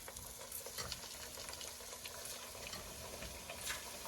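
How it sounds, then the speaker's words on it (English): Green plantain slices for patacones fry in hot oil, a busy close crackling sizzle with bubbling and small pops, steady and unbroken, no voices. "Alright, so you're only going to fry these until they're crispy"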